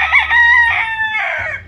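A fighting rooster crows loudly and close by, a long drawn-out call with a wavering, strained finish.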